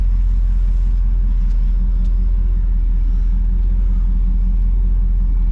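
A 2019 Ford F250 Powerstroke diesel pickup on its first drive after a 6R140 transmission swap, its engine producing a steady, loud low rumble that continues throughout with no voices.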